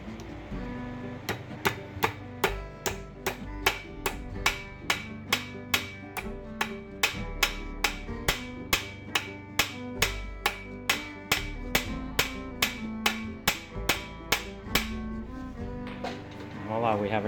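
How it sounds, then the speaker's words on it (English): A hammer strikes a crimp lug onto a battery cable in a long, regular series of sharp, ringing metallic blows, roughly two per second, close and loud, with faint talk underneath. "when you're hammering this next one, make sure it's the same side as this one"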